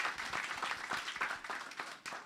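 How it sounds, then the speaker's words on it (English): Audience applause following a keynote lecture presentation, a short burst of scattered clapping in a hall that stays fairly even before tapering off near the end. "also is deserving of a round of applause for that excellent presentation"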